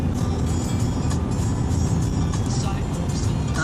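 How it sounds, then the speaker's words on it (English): Steady road noise and the broad rumble of surrounding cars on a busy morning drive in Australia, continuous and fairly loud with no single vehicle standing out. "A lot of traffic."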